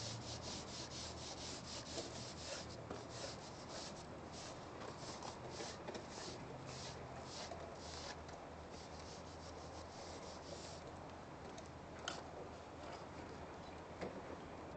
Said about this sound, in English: I was using a wire brush.